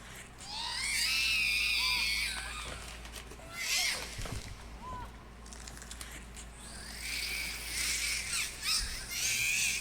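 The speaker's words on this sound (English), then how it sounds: "Cue squealing and screeching again." Shrill, wavering squeals and screeches fill the Haunting Ground survival-horror game scene, loud and sustained at the start and end with a brief, busier break in the middle.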